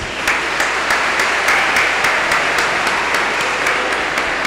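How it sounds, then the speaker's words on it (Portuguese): A congregation in a cathedral applauds during Mass, a loud, continuous wash of clapping from many people, with a few sharper individual claps ringing out at a regular pace through the steady roar. "Uma salva de palmas."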